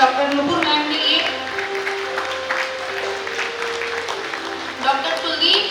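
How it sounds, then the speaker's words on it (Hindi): A crowd at a medical camp event applauds, scattered clapping under someone speaking over a loudspeaker with music playing. "आपकी जोरदार तालियां चाहूंगी"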